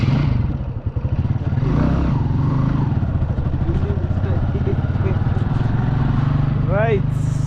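A motorbike rides along in Tanzania, its engine droning steadily up close with rattles and clatter from the machine, and people talk throughout.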